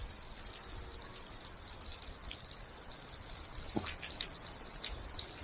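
Water running and splashing off a cliff on a hilltop, a steady, fairly faint trickling wash with a few brighter drips and splashes near the end, with no voices.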